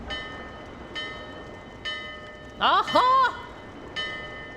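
Bell ringing in the video game Dark Souls 2, several clear, evenly spaced metallic tolls at moderate volume, broken in the middle by a brief excited vocal exclamation.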